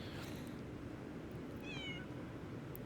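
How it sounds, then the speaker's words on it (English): A small kitten in the game Lies of P gives a single short, thin meow, fairly faint, over a steady hiss of background ambience. "Kitty. A small kitten."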